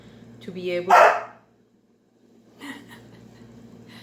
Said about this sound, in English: That was my dog, by the way.